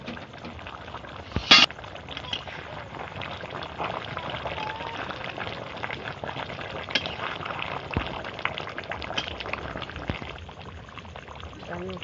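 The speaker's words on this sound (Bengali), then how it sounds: "ভালো করে একটু ফুটিয়ে নেবো" Mutton korma simmers in a pot with soft, continuous bubbling and liquid sounds, broken by a brief sharp splash or clatter early on.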